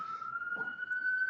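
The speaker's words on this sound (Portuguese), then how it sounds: "passou uma ambulância" An ambulance siren sounds outside as it passes, a steady wailing tone that holds loud and constant through the moment with a brief low rumble partway through.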